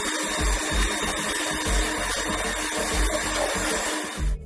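An electric mixer beats egg whites for meringue in a steady buzzing whir, with a faint rhythmic thumping underneath as the bowl is worked, moderately close and with no voices.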